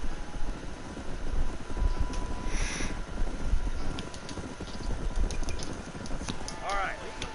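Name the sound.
horses' hooves in Red Dead Redemption video game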